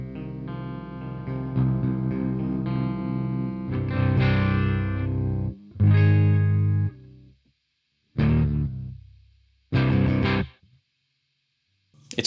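Electric guitar played clean through a Biyang DS12 distortion pedal with the effect off, sustained chords ringing out, then a few separate strummed chords each left to decay into silence.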